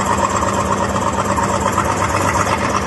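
The engine of a 1975 Polish Waryński K-606 crawler excavator idles up close with a steady, rough diesel chug and a rhythmic knocking throb, running continuously.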